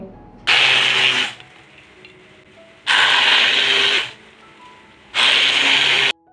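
An electric blender grinds soaked lentils for bora in three loud, close bursts of about a second each, separated by short pauses of quiet.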